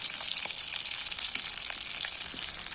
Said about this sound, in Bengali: এইবার বেগুনটাকে আমি একটু ভালো করে ভেজে নেবো